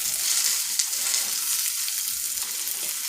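Beefless plant-based grounds browning in a frying pan, giving a dense, continuous hiss and crackle at steady loudness, close up, with no voices.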